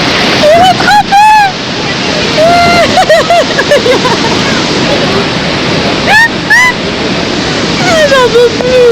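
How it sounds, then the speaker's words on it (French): Niagara Falls thundering from just metres away, heard from the tunnels beneath the cascade as a loud, constant roar of falling water with wind buffeting the microphone; several people talk and shout over it throughout. "On est en fait sous la cascade."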